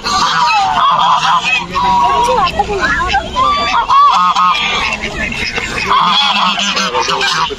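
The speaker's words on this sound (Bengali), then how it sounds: "তারপর রাজহাঁসের অনেকগুলো জাত আছে" Many geese honk loudly and continuously in a park in Malaysia, a busy overlapping chorus with people chattering in the background.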